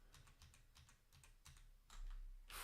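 Computer keyboard keys are tapped in quick irregular bursts, close and clear, followed by a louder burst of noise at the end, with no talking.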